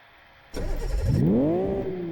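A car engine in the Live for Speed racing game starts abruptly and revs, its pitch sweeping steadily upward in one continuous loud pull before leveling off, with no voices.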